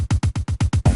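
Unmixed multitrack of drums, bass and guitar played back together in a SONAR X3 session, with eight loud, evenly spaced hits pounding in a steady rhythm over one second, full-band and close.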